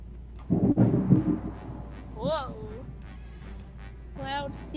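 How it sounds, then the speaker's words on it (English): Loud thunder from a storm rumbles low and broad near the start, followed by quieter noise with brief voice-like tones. "Whoa. Loud thunder."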